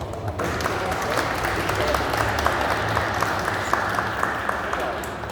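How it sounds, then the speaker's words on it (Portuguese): Audience on a historical café tour applauds after a demonstration of bells tuned to F major; a dense, even round of clapping, moderately near, holding steady for several seconds. "uma salva de palmas"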